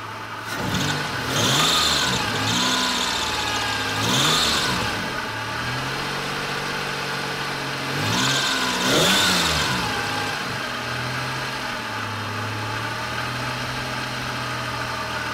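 A car engine idles, then is given gas in three or four short revving bursts that rise and fall before settling back to a steady idle, heard up close with no talking.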